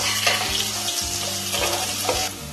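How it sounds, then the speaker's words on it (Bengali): Potato pieces fry in hot oil as they are stirred, making a dense, steady sizzle with scraping stirs close by. No one speaks. "হালকা করে নাড়াচাড়া করে ভেজে নেব"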